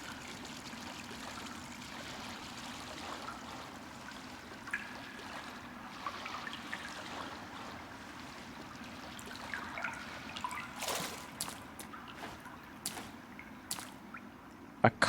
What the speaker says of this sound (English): Why is all this water here?